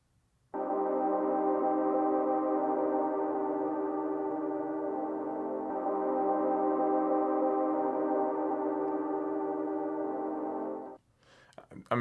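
A synthesized tone manipulated inside a beat machine for a classic hip hop beat, a steady sustained buzzing drone that holds for about ten seconds alone before cutting off abruptly.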